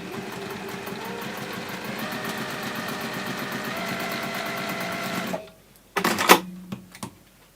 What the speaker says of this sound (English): I'm going to sew this one onto there